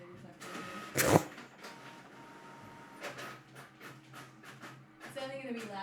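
A printer works through a very large print job with a continuous mechanical whirring and rolling, punctuated by a sharp clunk early on and a few further thumps, steady and moderately loud beneath a quiet room.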